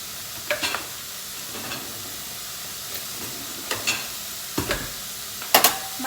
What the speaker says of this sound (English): Turn my fire down, as you can hear it sizzling.